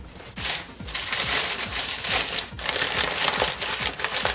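A paper bag crinkles and crackles loudly and close as pulled pork is sealed inside, in repeated bursts of crumpling with short pauses between them.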